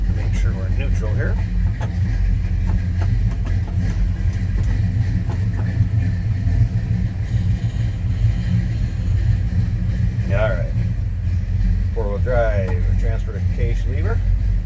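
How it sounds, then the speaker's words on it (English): The 350 V8 in a 1970 Chevrolet K10 4x4 idles with a steady, deep low rumble under a voice talking throughout. "Nice little rumble coming out of that 350. Good sounding engine."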